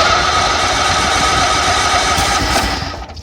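A cold engine with the choke on fires and runs, giving a loud steady rough drone with a buzzing edge that eases slightly at the very end.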